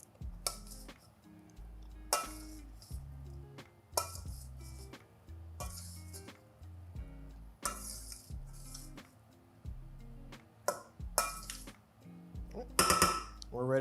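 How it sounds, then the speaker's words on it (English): A utensil stirring potato salad in a bowl gives repeated clinks and scrapes against the dish, about a dozen distinct knocks spaced through the stretch, close and fairly loud, with a voice talking underneath. "Just give this another quick stir."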